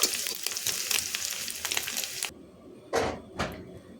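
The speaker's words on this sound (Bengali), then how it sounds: "এই যে দেখুন চিংড়ি মাছটা কিন্তু আমি খুব সুন্দর করে ভেজে নিয়েছি" Prawns fry with turmeric in oil in a kadai, making a close, steady crackling sizzle that stops suddenly, followed by two short scraping bursts against a quiet background.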